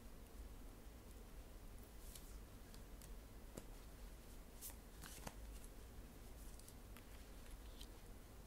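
Tarot cards are shuffled softly and close by, a faint papery riffling with scattered light taps and flicks over a low background hiss, no speech.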